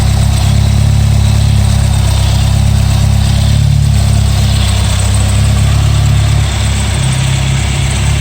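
A 1981 Scirocco S engine with CIS fuel injection idles steadily and loudly up close, a constant low rumble with no revving or change in pace.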